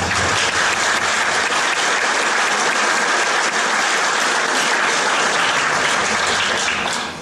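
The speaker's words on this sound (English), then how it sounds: "Can we give them a round of applause?" Audience applause at a primary school Grade 6 graduation ceremony, a dense, steady wash of many hands clapping at full loudness for about seven seconds before tapering slightly at the end.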